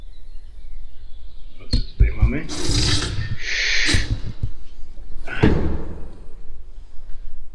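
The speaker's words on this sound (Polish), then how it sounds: "jaki dźwięk te drzwi wydają." An old sanatorium door creaks loudly in a drawn-out scraping groan, with heavy thuds and a slam, close by, and a person speaking amid the noise.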